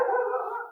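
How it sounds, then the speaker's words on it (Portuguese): A dog gives one drawn-out, howling bark that lasts under a second, moderately faint and alone with no talking. "Olha o cachorro latindo."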